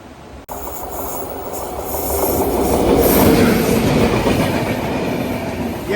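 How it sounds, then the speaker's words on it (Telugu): The SMVB Bengaluru–Howrah Superfast Express rolls past on the main line, a loud, close rumble of wheels and carriages building steadily with rhythmic clatter and faint squeal, no voices. "ఎస్ఎంవిబి Bengaluru Howrah super fast express."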